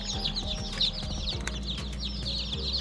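Newly hatched, already dry chicks taken from an incubator peep and cheep continuously, a dense chorus of high chirps close by, with faint low hum underneath.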